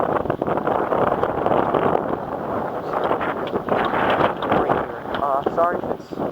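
Gusty wind buffets the microphone with low rumbling bursts outdoors during an MTD 179cc engine start-up, mixed with indistinct voice sounds throughout.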